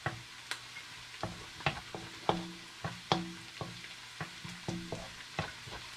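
Onions sizzle in a pan beside browned garlic while a spatula scrapes and taps the metal in a quick irregular rhythm, the frying hiss soft and steady between the clacks, near and alone.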